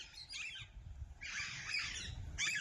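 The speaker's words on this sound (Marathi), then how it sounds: "पक्षी काय एवढे बोलायला लागलेत" A flock of birds outside chirps and squawks in a dense, busy chorus, with brief clusters swelling into a sustained loud stretch and no voices.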